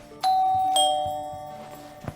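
A two-tone doorbell chimes in the video game Schoolboy Runaway, a bright ding followed by a dong that rings out and fades, with faint thumps afterward.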